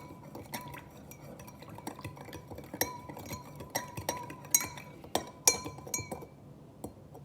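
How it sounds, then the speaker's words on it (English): A spoon stirring a fresh spoonful of solid into liquid in a glass for a solubility test, giving repeated bright clinks and scrapes against the glass in an uneven, close rhythm, with no one speaking. "We're gonna add another spoon. This is spoonful number 5."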